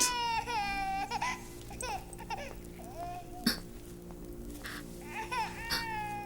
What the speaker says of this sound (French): Est-ce pour cela que tu n'arrêtes pas de pleurer tellement, mon enfant?